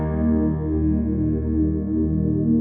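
Concert grand piano voice on a keyboard in a gospel praise style, sustained warm chords ringing steadily and loudly throughout with no talking.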